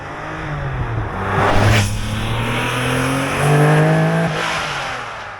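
A 1988 Porsche 959 engine accelerates hard, its loud rising roar surging twice and climbing in pitch through the gears, with no voices over it.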